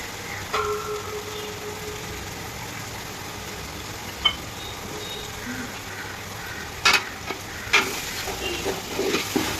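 Ground ginger-garlic paste fries in a pan with a soft, continuous sizzle. Occasional scrapes and clinks from stirring sharpen toward the end, with no voices present.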